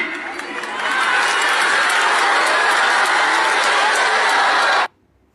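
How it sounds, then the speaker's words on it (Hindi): A large crowd at a public gathering applauds and cheers in a dense, steady roar that holds for several seconds and then stops abruptly. "सामने मूर्खों की भीड़ की तालियां, उनके जयकारे तो आप सुन ही रहे हैं"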